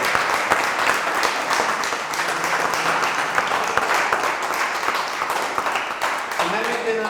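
Audience applause closing a Spanish-language lecture on holographic correspondence, gravity and string theory: steady, dense clapping from a full room that holds evenly throughout, with faint voices murmuring underneath.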